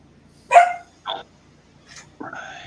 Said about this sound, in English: Yeah, that was my dog.